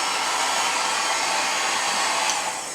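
Small handheld hair dryer fitted with a tiny diffuser blows steadily on its low setting, a loud constant whooshing hiss that runs unchanged nearly throughout before easing slightly at the end, with no one speaking.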